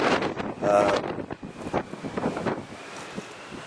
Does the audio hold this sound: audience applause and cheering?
no